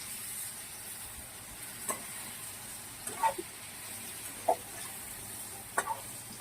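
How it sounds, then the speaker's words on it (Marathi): Stuffed eggplant sautéing in a pan gives a soft, steady sizzle with faint intermittent taps of a spoon against the pan, quiet and close, with no talking. "हे बघा वांगे मी व्यवस्थित परतून घेतलेत."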